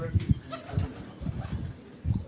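A pigeon coos in a few low, repeated pulses, close by on a rooftop loft, with some other low sounds around it.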